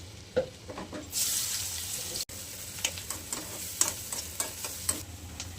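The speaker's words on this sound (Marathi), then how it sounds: "आता आपण कांदा टाकून घेऊया" Sliced onion goes into hot oil with crushed garlic in a pan, bringing a bright, steady sizzle and crackle, broken by scraping stirs and occasional clinks of the spoon.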